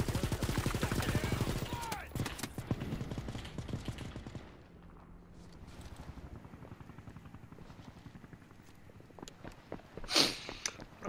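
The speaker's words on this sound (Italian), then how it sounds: "Questo G38 spara troppi colpi, cioè troppo casino" Bursts of G38 rifle gunfire from the video game World War 3, dense rapid shots in the first seconds, then quieter game ambience with a sharp blast near the end.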